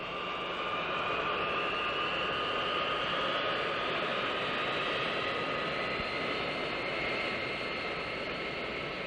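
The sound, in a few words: jet airliner taxiing toward the runway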